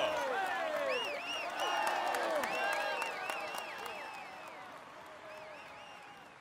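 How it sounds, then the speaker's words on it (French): Roadside crowd at the 2016 Tour de France, stage 8 from Pau to Bagnères-de-Luchon, cheering and applauding a cyclist, with whoops and whistles over steady clapping that gradually fades; a commentator talks over it. "Allez, on l'applaudit encore."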